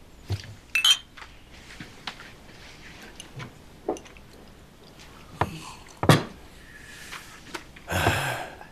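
Glasses clink together in a toast, several sharp bright chinks spread across a quiet room with soft rustles and movement between them.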